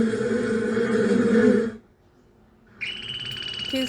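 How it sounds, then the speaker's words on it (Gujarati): A honeybee gives a loud, steady buzzing drone for nearly two seconds, then cuts off into silence before a different high tone starts. "આ મધમાખી છે, મધમાખી પણ ગણગણ કરે."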